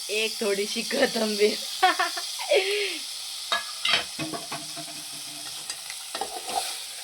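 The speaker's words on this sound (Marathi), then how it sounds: "2 मिनिटं तेलावर व्यवस्थित फ्राय करत राहायचं।" Ground masala with tomato and fresh coriander sizzles and fries in hot oil for a chicken sukka, a steady close hiss with stirring while someone talks over it.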